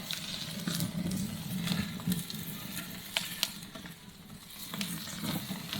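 Flames roar and crackle steadily around a tomahawk steak cooking over a fire, with sizzling fat, occasional sharp pops and flare-ups throughout, close and fairly loud.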